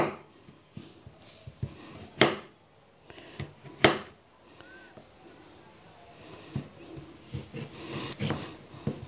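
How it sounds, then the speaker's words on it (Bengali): Knife chopping radish into long strips on a board, with several sharp, loud cuts spaced irregularly among softer scraping and handling noises, close to the listener. "লম্বা লম্বা করে কাটবো"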